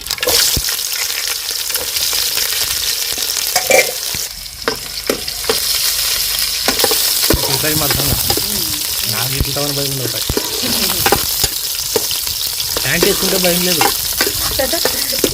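Onions and green chilies frying in hot oil with cumin and mustard seeds, a loud close sizzle with stirring scrapes throughout, while a voice talks over part of it.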